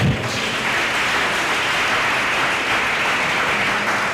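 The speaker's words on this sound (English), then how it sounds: "I want to hear the loudest hand clap since morning." A large audience claps hands at an education panel event, producing loud, sustained, dense applause that holds steady throughout without speech.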